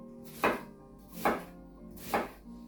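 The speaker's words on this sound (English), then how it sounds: "I then cut into the onion" A knife slicing into a halved, peeled onion, the root left attached, for a very fine mince, giving three crisp, evenly spaced chops close up with quiet pauses between.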